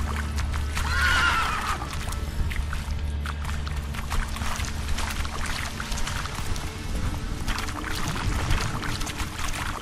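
A horse in The Witcher 3: Wild Hunt, in a swamp area, gives a short whinny near the start, then continuous watery ambience and soft game sounds carry on.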